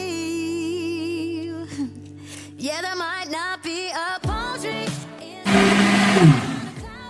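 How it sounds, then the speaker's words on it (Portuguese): A kitchen blender whirs loudly for the last second or two, mixing the liquid ingredients for a filled bread dough, after a stretch of tonal, voice-like sounds and brief pauses. "iremos bater no liquidificador por mais ou menos uns 2 a 3 minutos"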